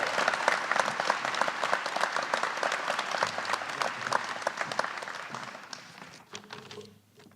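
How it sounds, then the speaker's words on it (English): A banquet audience at an annual alumni award of merit gala claps loudly and continuously for the honoree, then the applause thins and fades to near silence in the last second. "So a round of applause for a person who bleeds red and blue, Sue Dreyer-Wishnow."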